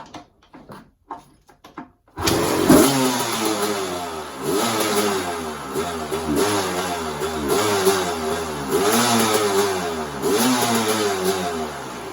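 A 1994 Honda CR250 two-stroke motorcycle is kicked into life after a few quiet knocks, then revs loudly and close in repeated rising and falling bursts over a crackling idle.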